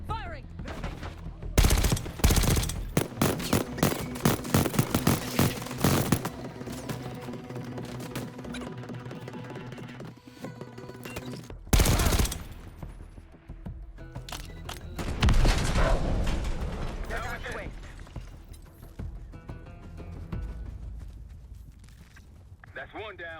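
Rapid bursts of gunfire and loud booms from a Call of Duty Black Ops 6 campaign battle, with shots clustered then spaced apart while voices talk among the shooting.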